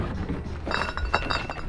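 Glass clinks and knocks in a few quick, light taps and rattles near the listener, a short cluster of bright chinks over a low outdoor rumble.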